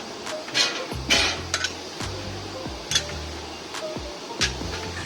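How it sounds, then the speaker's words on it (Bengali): A spatula scrapes and clinks against a pot in irregular bursts as prawns, fried potatoes and pointed gourd are stir-fried together in a large village-style batch for a 400-guest event, with a low steady cooking hiss beneath. "সব কিছু এবার ভালোভাবে কষিয়ে নেওয়া হচ্ছে।"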